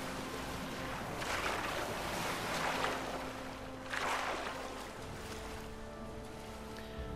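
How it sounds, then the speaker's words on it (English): Water sloshing and splashing as a character swims in Fallout 4, with two broader surges of churning water over a steady low ambient wash and faint hum, fairly quiet and without talk. "I'm going to have to swim round here."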